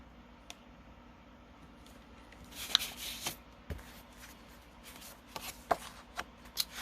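Cardstock sheets are shuffled and flipped through while searching a craft paper stash, giving a run of close, dry rustles and sharp flicks, with a few louder slaps of paper near the middle and end.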